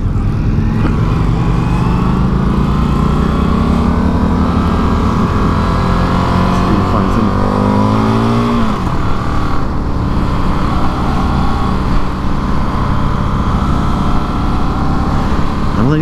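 An Indian FTR 1200 motorcycle engine rumbling loud and close while riding, a deep continuous drone with one climbing rev that drops off midway before settling into a steady throb.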